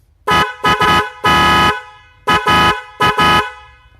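Paired DNY snail-type car horns blare together in loud, harmonically rich honks: a quick run of short toots, one longer blast, then two more pairs of short beeps, with nothing else audible.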